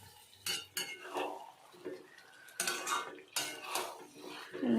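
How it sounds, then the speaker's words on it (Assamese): A metal lid clanks onto a pot of cooking pumpkin among several loud clattering hits of cookware and utensils, close by, with brief stirring scrapes between them. "এনেকৈ ঢাকনি আমি দি দিওঁ।"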